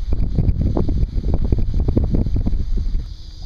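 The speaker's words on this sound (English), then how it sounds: "The wind, she is a kicking up." Strong wind gusts buffet a fishing boat out on the water, a loud continuous rumble with wind blasting against the microphone and no speech.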